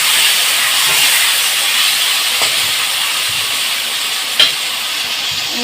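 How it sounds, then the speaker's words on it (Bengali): Potato pieces rubbed with salt and turmeric fry in oil with bay leaf and black cumin, giving a steady, close hiss of sizzling with a couple of small sharp pops and no talking. "এটা সুন্দর করে একদম এখন লাল লাল করে ভেজে নেবে"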